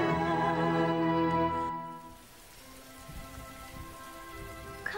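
Rain falling in a cartoon, a steady hiss of drops continuing alone after a sustained musical tone fades out in the first two seconds.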